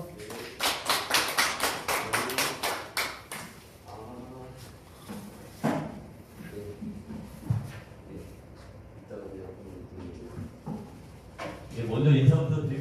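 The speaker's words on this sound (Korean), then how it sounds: "자, 큰 박수 부탁드리겠습니다." Audience at a farmers' association lecture breaks into a few seconds of loud, dense clapping, which then fades into scattered claps and room noise.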